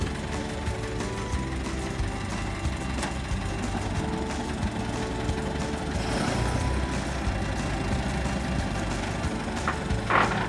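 A 1926 International Model 54 house-moving truck engine idles steadily as it warms up, a continuous low rumble with faint mechanical ticking, fairly close and alone.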